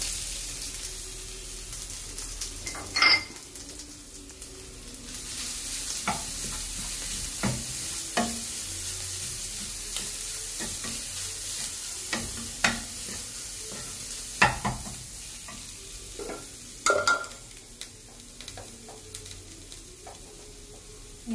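Crushed coconut with curry leaves is stirred in a pan for chemmeen unda. A soft, steady sizzle runs under repeated scraping strokes of the spoon, with a few louder knocks and no talking.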